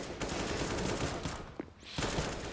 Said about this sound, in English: these pistols are doing some work here